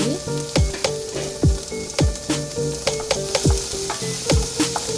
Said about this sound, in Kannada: ಗೋಲ್ಡನ್ ಬ್ರೌನ್ ಕಲರ್ ಬರೋವರೆಗೂ ನಾವು ಆನಿಯನ್ನ ಚೆನ್ನಾಗಿ ಫ್ರೈ ಮಾಡ್ಕೋಬೇಕು.